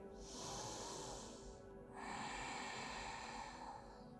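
A long, deep breath during a slow evening yoga sequence, drawn in steadily for under two seconds and then continued in a second airy stretch, close and breathy, with no talking.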